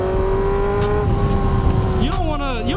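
A 600 motorcycle engine climbing through the power band without shifting, a loud, steady high-pitched rising whine with a brief dip near the end.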